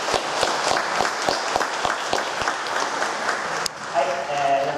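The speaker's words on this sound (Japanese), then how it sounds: "皆さん拍手でお迎えください" An audience at a town branding lecture in Asahi-machi applauds to welcome a speaker, steady clapping from a room of people that cuts off sharply, followed by a voice beginning to speak.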